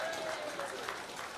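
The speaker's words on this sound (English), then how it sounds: "So we give them a cheer there." Applause and cheering from the crowd at an intermediate hurling final come through faintly, a brief burst of distant clapping in a large space.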